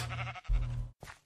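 Two sheep bleats from the video game Projekt Zylon, a longer low bleat followed by a short one, loud and close, with no talk over them.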